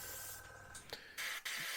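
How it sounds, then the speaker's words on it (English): Quiet airbrush hiss in short bursts, paint spraying onto a plastic scale model aircraft, starting and stopping a few times close by, with brief pauses between. "And just walk that spray over the model"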